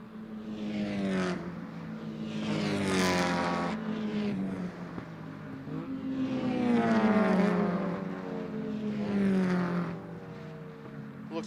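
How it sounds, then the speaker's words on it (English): Mazda Miata race cars at Lime Rock Park during a Miatacon race, engines droning and rising in pitch as they pass, a steady loud wash of several cars at high revs with no voices. "Looks like Ferraro has put the spurs to his Miata and is slowly but surely lengthening that gap over Sarnecki."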